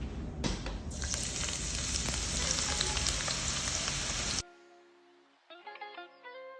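Thinly sliced onions frying in hot oil to make barista for chicken tikka biryani, a steady dense sizzle for about four seconds that cuts off abruptly, followed by quieter clinks and kitchen sounds.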